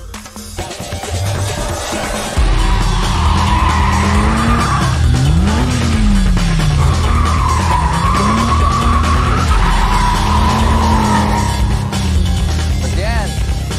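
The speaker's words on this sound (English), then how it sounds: "First drifters invented drifting out here in the mountains by feeling." Car drifting on a mountain road, with loud sustained tire squeal and skidding whose pitch sweeps up and down over a steady engine roar, close and continuous after a quieter start, with some talk underneath.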